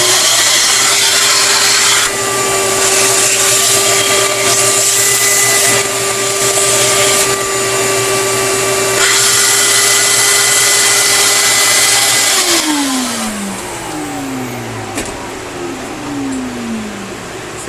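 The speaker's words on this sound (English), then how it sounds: "just run the shop vac through and clean your tool out" A shop vac runs loud and steady throughout, its whine shifting as the nozzle works over a power tool's dusty filter, with the motor winding down near the end.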